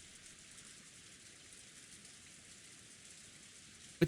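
Steady rain falls throughout, a soft continuous hiss of drops on a surface, moderately faint, with a brief sharp knock at the very end.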